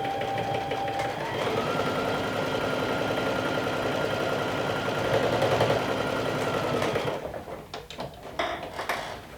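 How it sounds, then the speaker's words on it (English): A sewing machine runs a straight top stitch along a seam allowance on a garment, a fast steady whirring chatter for about seven seconds before stopping, followed by a few clicks and handling noises. "So now I'm top stitching the seam allowance up."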